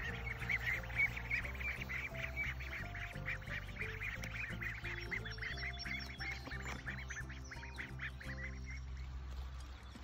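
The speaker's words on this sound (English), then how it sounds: "the big ducks are enjoying their pool as well" Big ducks in their pool quack repeatedly in a busy, overlapping chorus, fairly close, with a steady low background hum.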